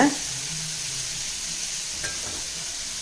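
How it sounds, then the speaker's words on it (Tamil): Masala idiyappam fries in a pan until crispy, giving a constant, even sizzling hiss with one faint knock partway through. "இது மாதிரி வறுபடணும் நல்லா மொறு மொறு மொறுன்னு சொல்லிவிட்டு நல்லா வறுபடணும்"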